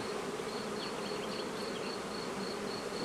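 Honey bees drone in a dense, steady buzz at an open hive during colony expansion, close and continuous with no voices over it.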